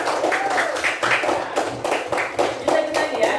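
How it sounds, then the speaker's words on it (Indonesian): Classmates in a classroom lesson clap for a friend in a short burst of close, uneven hand claps, rhythmic slaps overlapping with faint voices among the group. "kasih tepuk tangan dulu temannya"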